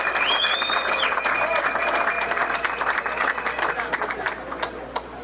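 Delegates at a UDPS party congress give an ovation, with sustained clapping from a large crowd across the room and a voice speaking over it, the applause gradually thinning toward the end.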